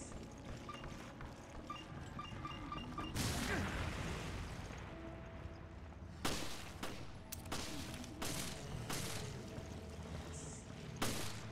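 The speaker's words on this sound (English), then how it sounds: "so I throw this bomb here" A thrown bomb bursts in the Resident Evil Revelations video game: a loud broadband blast swells and rolls on for a few seconds, followed by several sharp, gunfire-like cracks over a steady bed of game noise.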